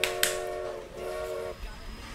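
A train in the racing video game Forza Horizon 4 sounds a steady, moderately loud horn tone for about a second and a half over continuous rumbling engine and road noise, with two sharp clicks at the start.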